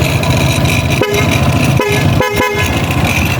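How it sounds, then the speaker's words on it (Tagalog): A loud, blaring two-tone Corsa dual horn on a Suzuki Burgman scooter sounds in several blasts, short and long, right up close. "Corsa horn yung gamit ko na loud horn."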